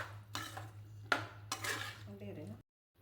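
A spoon scraping and clanking against a pot while stirring multigrain sundal kuzhambu with a little water, in three or four short bursts of metal scraping over a steady low hum, ending abruptly.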